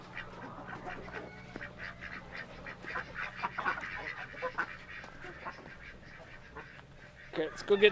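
Farm ducks quack and honk in a busy, overlapping flock at moderate distance on a winter farm, with a low steady hum underneath and brief voices nearby.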